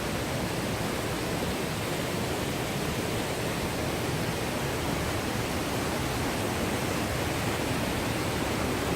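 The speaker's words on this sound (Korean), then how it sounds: "파래폭포." The Parae waterfall roars in a continuous broadband rush of falling water, loud, even and unbroken throughout.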